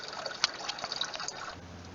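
Used antifreeze drains from the coolant system of a Jeep 3.7-liter engine into a catch basin, a close, steady trickle and splash with small irregular drips for about two seconds.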